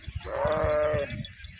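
A desi goat lets out a single loud, wavering bleat close by in a Punjab farm village setting, with rustling and thumps around it.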